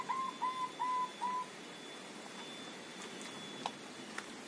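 A zebra dove of the moka variety gives a short run of four soft, evenly spaced coos at the start, then falls quiet against a faint background hiss.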